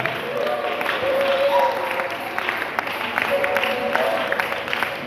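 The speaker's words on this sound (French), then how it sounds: "Est-ce qu'on peut pousser des cris de joie?" A church congregation at a Congolese worship gathering claps, cheers and shouts for joy together, a steady, fairly loud crowd roar with overlapping voices and applause filling the whole moment.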